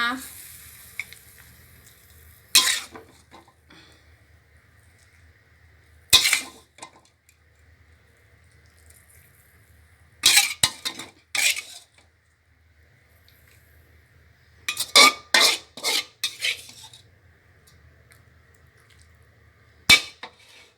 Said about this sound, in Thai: ตักเสิร์ฟเลยค่ะ ตักเสิร์ฟเลยนะคะ